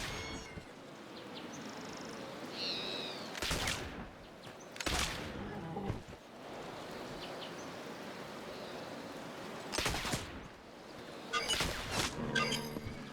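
Gunshots from hunting in the Oregon Trail video game, several separate sharp cracks spaced seconds apart over a faint ambient background.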